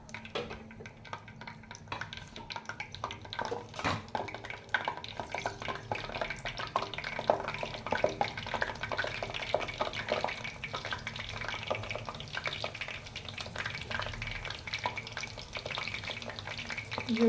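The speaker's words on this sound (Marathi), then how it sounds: "आपण ते सुद्धा तेलामध्ये तळून" Cabbage manchurian balls deep-frying in hot oil in a home kitchen, a steady dense sizzle and crackle running throughout at close range, with no talking.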